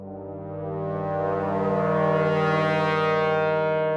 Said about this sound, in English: In Poseidon, each new note triggers the swell from the beginning,